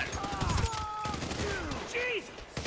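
Gunfire in the video game GTA 5, rapid shots crackling in a dense burst under excited shouting and game audio.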